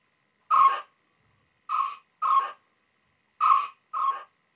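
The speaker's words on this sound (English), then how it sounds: "A gate gets rid of all that fuzz, just gives us the birds." Five short hooting bird calls with an echo effect, in one single call and two pairs, each clipped cleanly by a noise gate with dead silence between them.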